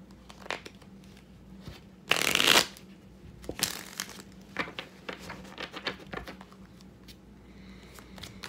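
Tarot cards are shuffled up close, with a brisk riffle burst, a second flurry, and then scattered light card flicks and taps.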